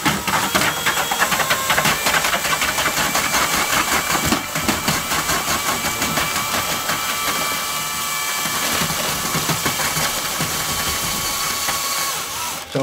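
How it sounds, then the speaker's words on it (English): A drill mixer motor churns thinset mortar in a bucket for a shower tile job, a loud continuous whirring drone with gritty scraping, held steady throughout with slight dips in pitch as the load grows. "as I start hearing the motor start to weigh down a little bit"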